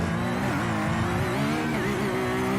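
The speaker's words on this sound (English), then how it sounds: "you heard the revs rising on the flat 6" A flat-six race car engine in a sim racing game screams continuously, its pitch climbing steadily as the revs rise, loud and up close.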